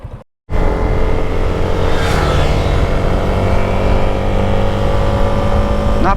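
Yamaha Sniper 155 motorcycle engine accelerating: a loud, close, continuous engine drone whose pitch rises steadily under acceleration, with a brief dropout near the start.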